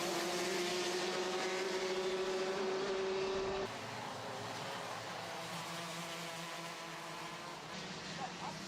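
Racing karts roar around the Devil's Elbow section of the GYG circuit in the Ultimate Karting Championship, a continuous loud engine drone with one high whine fading out midway as the pack streams past.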